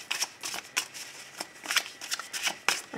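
Tarot cards being shuffled close up, with repeated crisp riffling bursts in an irregular rhythm and no voices over them.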